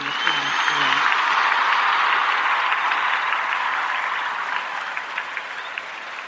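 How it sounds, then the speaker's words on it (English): Steady audience applause from a crowd at a spiritual gathering fills the space, dense and even throughout with a faint murmur at the start, fading slightly toward the end. "Got to give you a round of applause."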